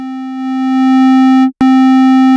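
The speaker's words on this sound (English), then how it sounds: "it's going to sound more of a hard clip tone" A steady synthetic test tone runs through a clipper plugin in Logic, swelling louder and turning bright and buzzy with strong harmonics like a hard-clipped signal, with a brief dropout and click near the end.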